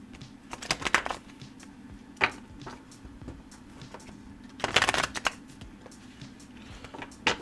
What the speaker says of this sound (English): Let's go ahead and pull a final card